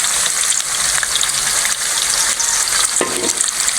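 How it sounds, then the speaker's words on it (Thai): Chicken offal fries in a pan of boiling oil with a loud, dense, close sizzle and crackle that holds steady, with a brief stir or pop near the end and no voices. "น้ำมันเดือดดี"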